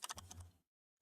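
A few quick, close keystrokes on a computer keyboard, a short burst of clicks lasting about half a second before it falls silent.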